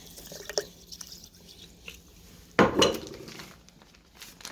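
Blueberries, raspberries and sugar tipped into a container for a homemade milkshake, giving one loud clattering pour with splashy knocks near the middle, close up, with softer clinks before and after.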